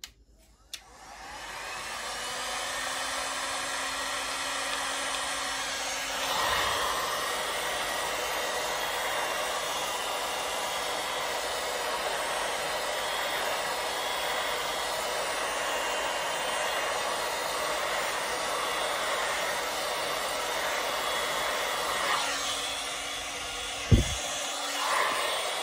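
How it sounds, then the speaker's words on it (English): A heat gun blows hot air over resin coasters in one long, steady roaring whoosh close by, clicking on at the start and cutting off briefly twice before the end, with no speech. "now I'm going to take the heat gun and move that around"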